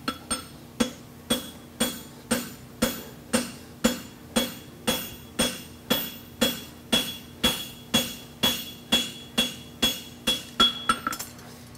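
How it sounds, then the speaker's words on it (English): Steady, rhythmic hammer blows on hot steel at an anvil, the hammer's edge drawing out a clip, about two strikes per second, close and loud with a bright metallic clang on each hit. "I'm gonna hit with the edge of the hammer right here and draw it out like a clip"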